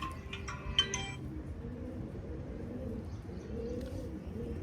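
Faint pigeons coo softly in the background, with a brief burst of chirping and clinking at the start.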